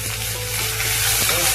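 Curry leaves and a dried red chili crackle in hot tempering oil for a coconut chutney, a loud, steady, dense sizzle throughout.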